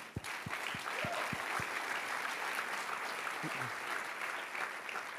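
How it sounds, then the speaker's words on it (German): Steady audience applause fills a conference hall at a founders' summit, dense clapping sustained throughout with a few louder low thumps near the start. "Von daher schon mal einen großen Applaus für Torben auf jeden Fall."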